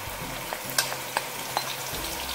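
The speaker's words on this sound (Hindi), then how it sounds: "ऑयल गर्म हो चुका है। अब इसमें शामिल करेंगे प्याज, लहसुन, अदरक और हरी मिर्चें" Steady sizzle of chopped onion, garlic, ginger and green chillies frying in hot oil, with a few sharp scraping stirs, close and continuous, no voices.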